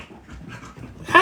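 Dog named Chippy panting close by, quick soft rhythmic breaths with a brief louder whimpering yelp at the end.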